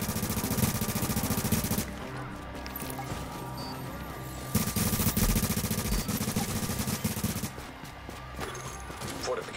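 Rapid video game gunfire crackles through most of the stretch, dense bursts pausing briefly and returning, with a busy battle soundscape layered underneath and voices chattering over the shooting.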